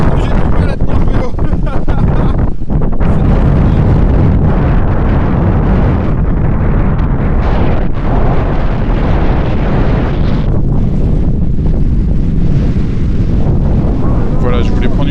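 Strong wind in the Gobi desert batters a cyclist and the microphone, giving a loud, continuous roar and rumble with heavy gusts throughout, and a person's voice can be heard through the noise.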